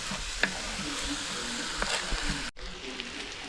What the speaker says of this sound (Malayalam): ഇതെല്ലാം കൂടെ ഒന്ന് നന്നായിട്ട് ഇളക്കി നല്ലതുപോലെ വാട്ടിയെടുക്കണം.